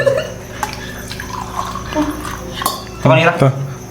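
Water is poured during a blindfolded cooking challenge, splashing and trickling nearby beneath lively voices, with a fuller pouring gush toward the end.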